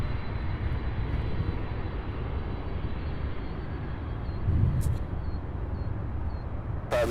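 A UPS heavy freighter jet rolls for takeoff at Louisville's SDF airport, a steady broad engine roar holding throughout, swelling slightly near the middle, with no one talking.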